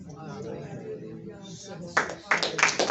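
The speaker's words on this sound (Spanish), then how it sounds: "Un aplauso." A church congregation breaks into applause near the end, a few clustered bursts of clapping that start abruptly after a stretch of speech-like voices and grow louder.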